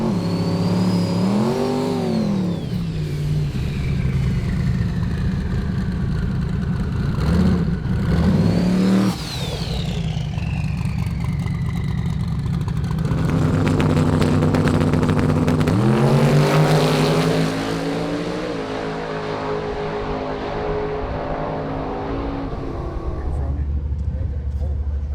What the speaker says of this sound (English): This is my 1982 Mustang with a Gen 3 Hemi.